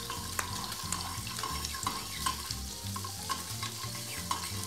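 Butter browns in a pan with a steady, close crackling sizzle, scattered sharper pops and light scraping as it is stirred, continuous throughout with no talking.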